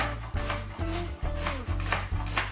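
Knife strokes chop against a cutting board, about six firm, evenly spaced chops close by, with no talking.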